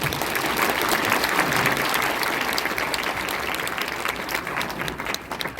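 A church congregation applauds after a sermon, a dense, steady clapping that fills the room and slowly thins toward the end.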